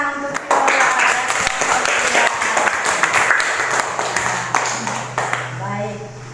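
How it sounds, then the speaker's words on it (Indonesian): Students clapping in a classroom after a group presentation, a loud burst of hands that holds steady and tapers off, with voices and chatter mixed in. "Tepuk tangan untuk"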